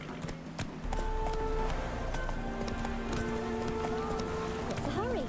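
Steady hoof clip-clop of a horse ridden through a city in the Odysseus game. The beat runs close and continuous under game music and a spoken line.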